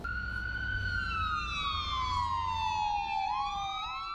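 An ambulance siren wails on a street in Vancouver, a single long tone that slowly falls in pitch and then jumps to a new cycle near the end, heard at moderate distance over low traffic rumble.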